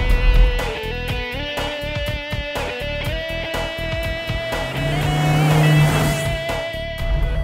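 A low-mileage GM luxury sports car with radial tune suspension drives along a road, its engine and road noise steady and close throughout, with shifting engine tones and no talking.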